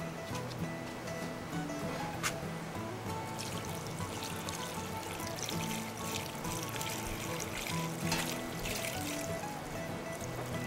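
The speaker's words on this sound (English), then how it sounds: "I'm going to dump in the water and we're going to wait for it to boil." Water pours into a pan of gathered materials, a continuous close trickle and splash lasting several seconds at moderate level, with no talking over it.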